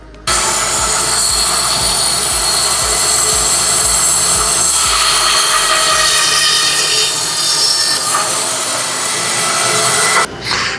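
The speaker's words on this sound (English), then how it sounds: "We're just going to cut those really steep angles on the bandsaw" A bandsaw slices small, steep-angled wood pieces in a home workshop, a loud, steady rasping whine that runs nearly unbroken for about ten seconds before cutting off abruptly near the end.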